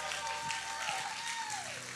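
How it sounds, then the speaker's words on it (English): A church congregation at a Sunday sermon claps, with diffuse applause filling the background under a sustained, gliding tone from a voice or instrument. "Come on, we just give up a round of applause for Jesus this morning."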